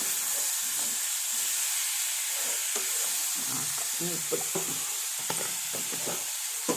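Spice paste for lemon pickle sizzles and hisses steadily in a hot pan, with scattered stirring scrapes and small pops through a continuous frying crackle, heard close with no talking.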